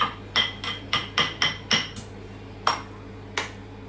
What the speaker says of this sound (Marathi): मी ह्या लसणाच्या पाकळ्या आहेत त्या मस्त